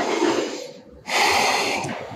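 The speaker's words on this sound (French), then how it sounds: "On est là pour 7 grandes respirations." A yoga practitioner breathes deeply in a forward fold, a long, close, breathy exhale, then a brief pause and a strong inhale.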